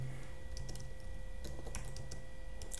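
Fingers type on a computer keyboard while a Kotlin program is being written, producing rapid, close, uneven key clicks over a steady background hum.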